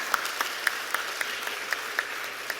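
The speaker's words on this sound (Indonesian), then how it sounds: "Tepuk tangan ya tepuk tangan aja." Audience members at a Megawati political speech clap, with a regular, evenly spaced beat of sharper claps standing out above a continuous wash of moderate applause.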